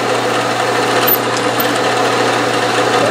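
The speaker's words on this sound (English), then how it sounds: "There it is, center drilling hole number one." A Bridgeport milling machine drives a center drill into a workpiece, giving a steady, loud motor whine and cutting hum with a constant low tone throughout, no voices over it.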